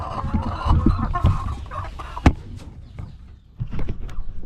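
Laying hens cluck and murmur nearby in a continuous, fairly loud jumble of low calls, with one sharp louder cluck partway through.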